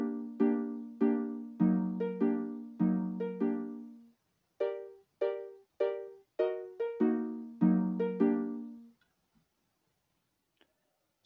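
Minecraft note blocks, triggered by a pressure plate, play a video game tune. The plucky, bell-like notes come in a steady marching rhythm with repeated phrases, then stop, leaving quiet.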